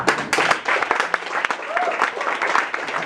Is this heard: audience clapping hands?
yes